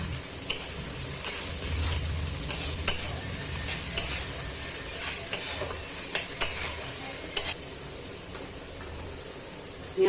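Chopped onion from two medium onions sizzling in a pan for Bengali-style chicken curry, with a steady fry hiss and repeated scraping stirs of a utensil against the pan, fairly close and moderately quiet.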